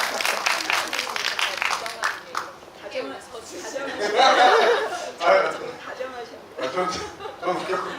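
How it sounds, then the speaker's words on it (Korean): An audience at a film screening Q&A claps and chuckles, scattered applause rising and falling over several seconds, mixed with laughter and chatter. "박수 한번 주시죠"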